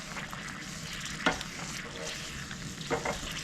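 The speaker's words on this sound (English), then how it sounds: "Stir this around." Shrimp stirred in a boiling pot, a bubbling hiss with two sharp clinks of a utensil against the pot, close and without speech.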